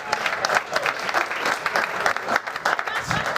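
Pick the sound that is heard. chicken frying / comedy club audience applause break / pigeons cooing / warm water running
comedy club audience applause break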